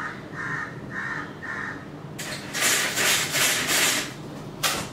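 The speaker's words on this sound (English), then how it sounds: "I'm just like so tired of this crow." A crow caws about four times in a steady rhythm, moderately loud outdoors, followed by harsh rubbing or scraping noises in bursts.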